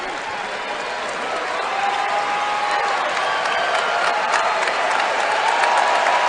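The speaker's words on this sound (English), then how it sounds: "A hand from the Smith Center crowd for Nasir Little as he gets out of the game." The Smith Center crowd at a North Carolina college basketball game applauds a player leaving the floor. The clapping is dense and sustained and swells slightly after the opening seconds, with crowd murmur underneath.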